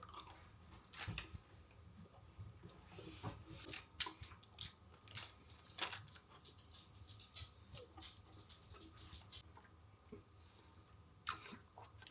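Someone bites and chews a crunchy caramel snack up close, irregular crisp crunches and clicks repeating over several seconds, faint and quiet.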